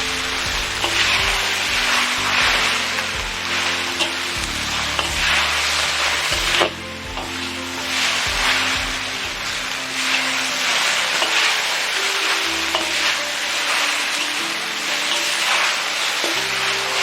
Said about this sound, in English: Stir fry for another 30 seconds to a minute.